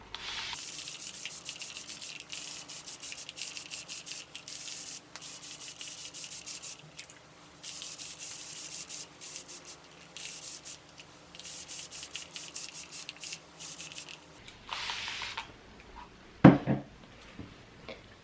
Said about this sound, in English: So first let me wet my hair and then we can start talking so I don't have to talk over this spray